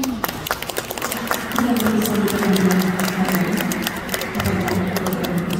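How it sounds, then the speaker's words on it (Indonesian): Dense, steady applause from a large indoor audience at a hospital association's board inauguration, sustained for several seconds with a voice speaking over the clapping. "Tepuk tangan dong."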